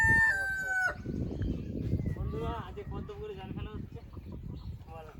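Chickens cluck and a rooster crows at a village chicken coop in West Bengal, the crow standing out at the start. People talk close by over the birds.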